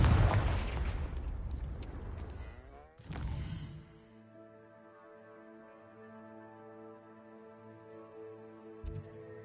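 In the Hogwarts Legacy video game, a Confringo blasting spell erupts in a loud, rumbling burst, then a second blast follows, leaving a sustained tonal magical hum that fades under a faint click.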